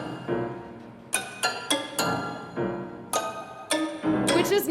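Detuned sound effects from the game Unrailed, a series of bright tonal hits and chimes with sharp attacks, some in quick succession and others spaced apart, moderately loud and with no talking over them.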